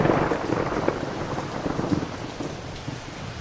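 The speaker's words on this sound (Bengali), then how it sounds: "কাছে কোথাও একটা প্রচণ্ড জোরে বাজ পড়ার শব্দ হলো।" Steady, heavy rain pours throughout with rolling thunder underneath, used as a storm effect in a Bengali horror audio story set on a winter night. It is continuous and fairly loud, with no voices.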